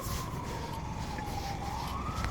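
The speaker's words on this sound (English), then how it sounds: "Hear the sirens?" A faint emergency siren wails far off, its tone slowly sliding down and then rising, half buried in steady low background rumble.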